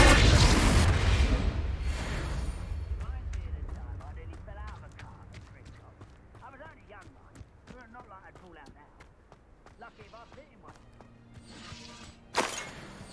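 Confringo fire spell from Hogwarts Legacy bursting in a loud, booming explosion that fades into scattered crackling and clattering debris, followed by a second sharp blast near the end.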